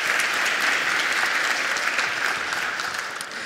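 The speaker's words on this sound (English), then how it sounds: "So Oliver, I think, deserves a round of applause for making a snowman generator" A round of applause from the audience at a children's coding show-and-tell on stage at PyCon UK, steady dense clapping throughout that eases slightly toward the end.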